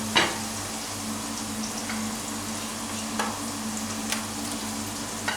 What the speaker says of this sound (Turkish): Soğanlarımız kavrulsun.